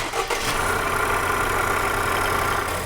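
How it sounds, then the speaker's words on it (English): A car engine idles with its drive belt removed, a steady, fairly smooth mid-low rumble close by after a brief clatter at the start, with no talking. "The engine's quieted way down, so we know it's one of the things that's driven by the belt"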